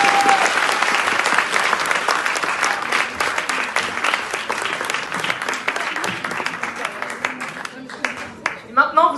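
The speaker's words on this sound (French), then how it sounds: "Je voudrais un tonnerre d'applaudissements pour eux," An audience bursts into loud, dense applause that carries on for most of the stretch and then thins out into scattered claps, with a few voices rising near the end.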